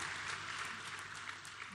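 Audience applause at an opening ceremony, a brief, even wash of many hands clapping at a moderate distance.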